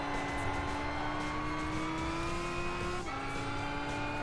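A Lamborghini Gallardo in Gran Turismo 5 holds a loud, steady engine whine that climbs gradually, drops with a quick gear change near the three-second mark, then keeps pulling.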